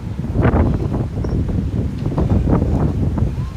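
Strong wind gusts across a Brooklyn street in the fall, buffeting the microphone with loud, rough rushing noise that rises and falls throughout.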